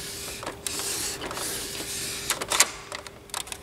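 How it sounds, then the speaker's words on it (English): Carriage of an Epson printer shuttling left and right, heard as a quiet mechanical whir with light clicks and a louder clunk partway through, close and alone. "Make sure the printer carriage can go left and right easy."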